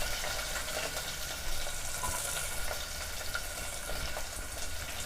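Sliced onion with cinnamon, cloves and bay leaf sautés in oil, a steady, moderate hiss and crackle running evenly throughout with faint stirring.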